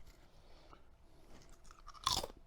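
Crunchy Irish cheese and onion crisps with a thick, kettle-style texture are bitten and chewed: soft, close chewing first, then one loud, sharp crunch near the end.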